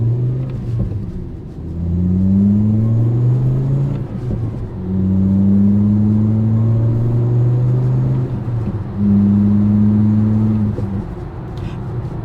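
A 2.5L VW Rabbit with a performance tune accelerates through three gears, the engine climbing in pitch with each pull, then dropping at each shift, loud and close.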